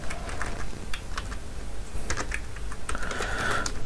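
Keystrokes on a computer keyboard while entering code, a steady run of quick, light clicks at close range with a few louder taps, no one talking.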